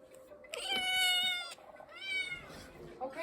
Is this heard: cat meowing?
yes